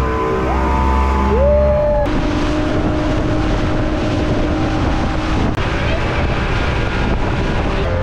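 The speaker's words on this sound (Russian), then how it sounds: "И мы отправляемся на катере по Сулакскому каньону." A motorboat ride through the Sulak canyon in Dagestan brings a loud, continuous engine roar mixed with rushing wind buffeting the microphone, holding steady throughout.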